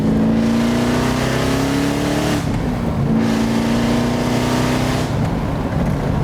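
A 1975 Alfa Romeo Montreal's engine revs hard and loud up to high rpm, drops sharply as it shifts up, then climbs again to another gear change, a steady rising pitch broken by two clear shifts.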